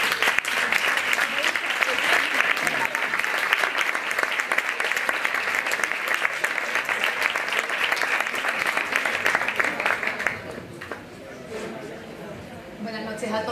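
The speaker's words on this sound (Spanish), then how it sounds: "Un aplauso, por favor" Audience applause at an awards ceremony in a hotel, dense and loud clapping sustained for about ten seconds before dropping away to a quieter room murmur.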